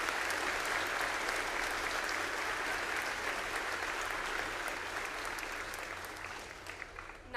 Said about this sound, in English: one more round of applause, please, from all of our veterans